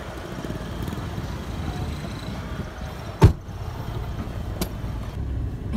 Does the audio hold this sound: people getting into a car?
yes